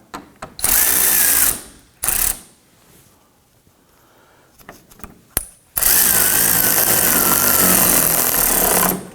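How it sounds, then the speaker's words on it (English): A power tool snugs down screws on the inner fender liner of a 2018–2024 Toyota Camry: short whirring bursts near the start, scattered clicks and handling noise, then one long sustained loud whine, close up and without speech. "now that we have all of our screws installed on the entire liner, I'm gonna go ahead and start to snug these down"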